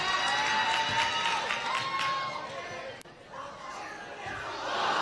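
Basketball gym crowd at a Central Dauphin East versus Carlisle game cheering for a shooter, a loud, continuous roar of voices and shouts with a brief dip midway before swelling again.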